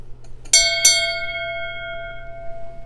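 A bell in a legacy room is struck twice in quick succession, each bright clang ringing out with a long, clear, slowly fading metallic tone in an otherwise quiet space.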